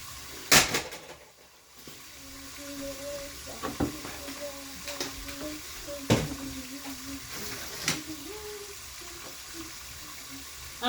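A kitchen sink tap runs faintly while something is washed under it, with clattering knocks and bumps of handling, and voices talk over the water.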